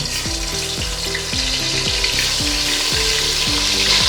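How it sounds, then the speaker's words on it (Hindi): Garlic ginger paste fries in hot ghee for a camel meat karahi, a loud steady sizzle running throughout with a rhythmic stirring pattern layered over it, close and without voices. "डाल के हम इसे अच्छी तरह से फ्राई करेंगे ताकि लहसुन अदरक का कच्चापन दूर हो जाए"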